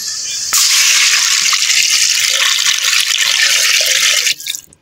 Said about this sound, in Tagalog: Ngayon, maglalagay na tayo ng tubig